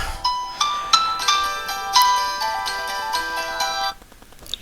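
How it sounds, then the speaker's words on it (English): Mobile phone ringtone plays a bright repeating melodic chime several times close by in a quiet room, then cuts off abruptly. "I'm sorry, my phone rang"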